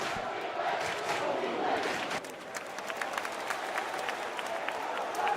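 A crowd at a live evening show claps and cheers in a dense, continuous wash of applause with scattered shouts, steady in level and heard at moderate distance, with voices mixed into the noise.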